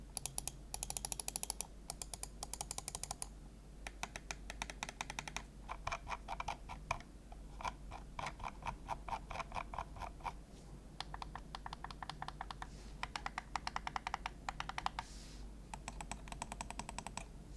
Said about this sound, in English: here is a listen to the clicks